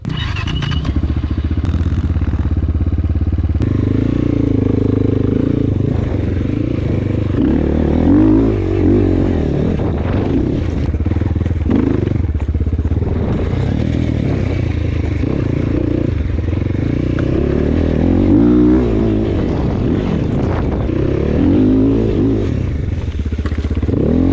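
A KOVI Lite 300 motorcycle ridden off-road over small hills, its engine droning loud and close the whole time, rising and falling with throttle changes amid rattles and clatter.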